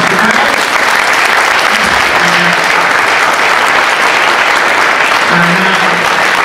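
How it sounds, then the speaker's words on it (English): An audience at a tech meetup applauding, a dense, loud, continuous clapping that stays steady from start to finish. "We're going to give a round of applause for Karell."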